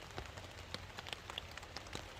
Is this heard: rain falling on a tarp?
yes